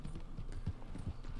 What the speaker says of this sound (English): you're riding the horse